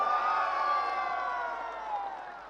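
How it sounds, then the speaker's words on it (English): Cheering and whooping from a large crowd at a crypto event rises at once and stays strong, then thins out slightly over a couple of seconds. "You ready? Applause."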